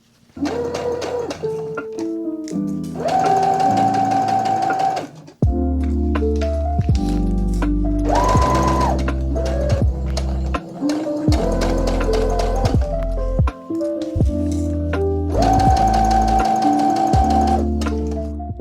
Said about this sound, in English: I'm just going to go ahead and sew with a 1/4 inch seam allowance all around the neckline